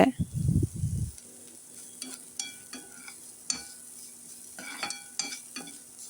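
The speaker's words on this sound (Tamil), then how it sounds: "கருவேப்பிலை ஆட் பண்ணி நல்லா ஒரு டைம் வதக்கிக்கோங்க." Curry leaves sautéing in a pan. A brief low rumble opens, then quieter scattered crackles, pops and spatula scrapes follow at close range.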